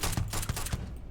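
Rapid bursts of gunfire from the space game Starfield, a few sharp shots in quick succession over a steady background of game ambience, with no talking.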